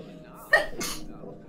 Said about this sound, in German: oh, ich glaube, ich muss gleich niesen.